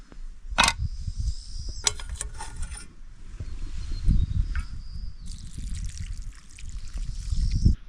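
Boiled water from a backpacking stove pot pours into a ramen pouch outdoors, a steady close trickle broken by a few metallic clinks and handling clatter, with no talking.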